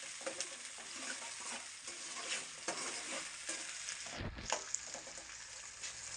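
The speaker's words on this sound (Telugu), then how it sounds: "పచ్చిమిర్చి ఉల్లిగడ్డ అయితే మంచిగా వేగినాయి ఫ్రెండ్స్" Onions and green chillies fry in very hot oil for a chicken feet and tamarind leaf curry, giving a continuous soft sizzle with stirring scrapes and a brief muffled thump midway.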